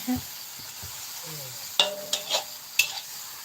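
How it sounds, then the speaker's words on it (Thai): Chinese kale being stir-fried with fresh pork in a pan over high heat, with soft sizzling and a few sharp scraping clinks of a utensil against the pan. The sound is fairly quiet overall, with no talk. "วันนี้ผัดผักคงต้องใส่หมูนะคะ"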